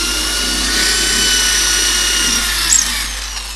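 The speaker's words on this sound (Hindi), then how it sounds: "अब हम इनको ड्रिल मशीन से होल कर लेते हैं।" A power drill fitted with a 6 mm bit bores holes in a wooden drawer for a lock, giving a loud, steady high whine close by that briefly bites and shifts in pitch near the end.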